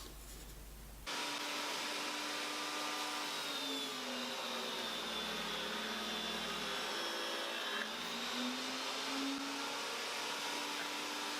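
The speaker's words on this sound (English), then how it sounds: "we'll be doing the perduk strips on the saw with the dado head in it" Table saw fitted with a dado head cutting padauk wood strips, a steady loud whining roar that starts abruptly and holds constant, with slight pitch shifts as the wood feeds through.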